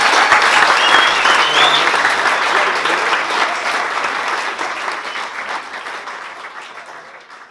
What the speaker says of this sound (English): Can I please get a final round of applause for all our speakers?